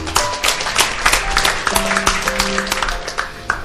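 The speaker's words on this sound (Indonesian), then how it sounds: "boleh tepuk tangan" A church congregation claps steadily during a sermon, the dense applause holding throughout with faint sustained tones beneath it.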